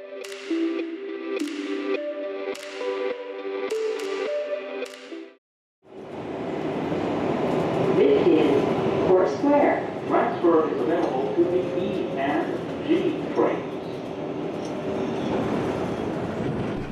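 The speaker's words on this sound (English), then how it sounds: "his true home became the New York City subway system." A New York City subway train rumbles and clatters steadily after a brief silence, loud and close with rhythmic rail noise throughout.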